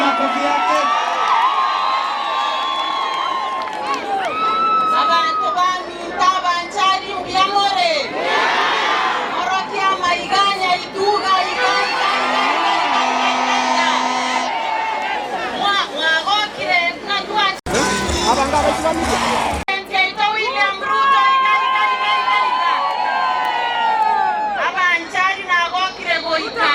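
Crowd at a Kenya Kwanza political rally in Kisii cheers and shouts loudly throughout, a dense roar of voices that swells and dips, with an amplified speaker talking over it.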